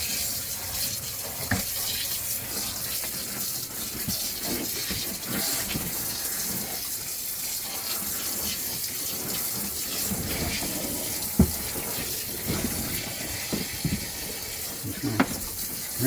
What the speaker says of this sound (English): Rinsing the clothes and then fishing on them.